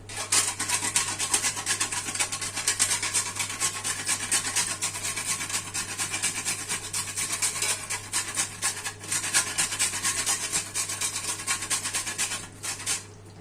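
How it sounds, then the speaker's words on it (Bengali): A whole nutmeg is rubbed against a grater in fast, rhythmic rasping strokes, close and continuous, over a low electrical hum. "একটা জায়ফল নিয়েছি জাইফলটাকে ঘষে আমি ছড়িয়ে দেব"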